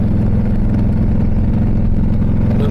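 A Harley motorcycle engine idles with a low, steady, throbbing rumble, loud and close, unchanging throughout with no voices.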